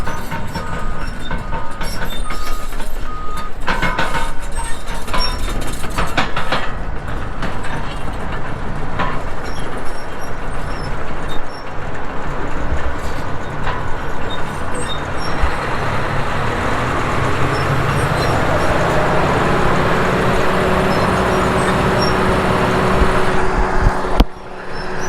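A 1,000-horsepower grinder engine chewing through an old almond orchard, a loud continuous mechanical roar whose pitch climbs as it revs up over the second half, with a brief sharper burst near the end.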